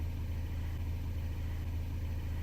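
A Mercedes 190E 2.0 converted to natural gas idles steadily, a low, even rumble with a faint rhythmic pulse and no voices, heard fairly quietly from nearby.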